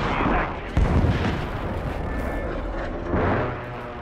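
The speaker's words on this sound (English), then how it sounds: "Friendly precision airstrike inbound." Deep booming blasts and a rolling rumble of a precision airstrike in Call of Duty MW3 team deathmatch, dense and continuous with sharper impacts near the start and end.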